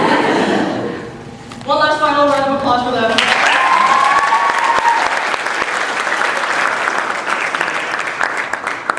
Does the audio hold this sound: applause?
yes